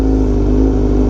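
A cold Honda Fireblade RR-R SP motorcycle engine idling, a loud, close, steady low thrum with an even pulsing tone.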